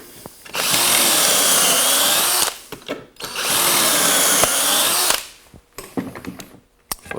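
Power drill boring pocket holes in wood with a Kreg jig: two sustained high whirring bursts of a few seconds each, separated by a short pause, followed by lighter clicks and handling noises.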